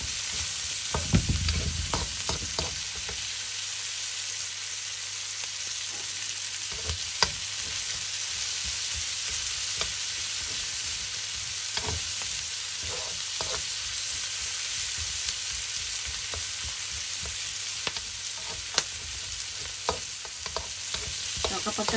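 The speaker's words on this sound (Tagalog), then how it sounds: "Palambutin lang po natin ang onion." Onions sauté in a hot pan with a steady sizzle. Repeated scraping and knocking strokes from a stirring utensil break through, close and clear, with no talking.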